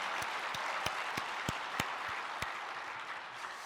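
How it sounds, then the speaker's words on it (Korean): A church congregation at a Korean devotional service gives a short round of applause, scattered sharp claps over a hazy wash of clapping that is moderately distant. "수고해 주신 모든 분들께 감사의 박수 올려드립니다."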